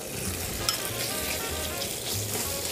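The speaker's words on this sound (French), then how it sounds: "On va venir mettre notre huile d'olive et on va venir mettre nos foies de volaille" Chicken livers frying in hot olive oil in a pan, a steady close crackling sizzle with soft low hiss throughout, no voices.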